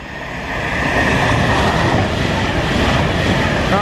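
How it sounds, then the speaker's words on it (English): An Avanti passenger train rushes past close by, a loud steady roar with rattling wheels and rail clatter that swells and holds throughout. "we're just waiting for the train to come."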